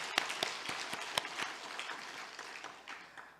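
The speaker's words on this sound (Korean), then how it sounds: "우리 모두 다 함께 주님께 영광의 박수를 함께 올려드리도록 하겠습니다." A church congregation claps together during an Easter Sunday worship service, an even burst of applause that starts strong with crisp individual claps and gradually fades, heard without speech.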